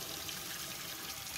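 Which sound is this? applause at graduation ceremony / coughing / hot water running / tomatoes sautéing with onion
hot water running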